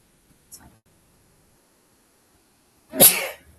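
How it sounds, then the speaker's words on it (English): A woman sneezes once, a sharp, loud, close burst after a faint earlier sniffle, set against near silence. "I think that's my first ever sneeze on a show"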